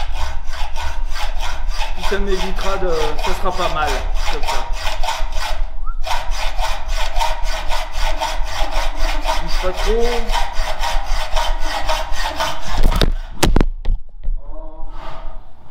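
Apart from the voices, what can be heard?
hacksaw cutting metal tube clamped in a vise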